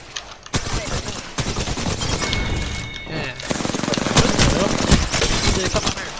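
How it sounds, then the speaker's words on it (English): Rapid automatic gunfire from the video game Apex Legends rattles almost without a break, loud and dense, with a few heavier booms mixed into the volley. "They spotted me. I'm taking shots."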